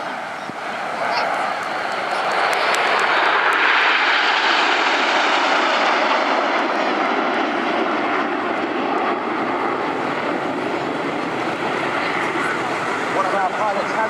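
Avro Lancaster bomber flying past at an airshow, a loud steady multi-engine propeller drone that swells and holds, with a commentator talking over it.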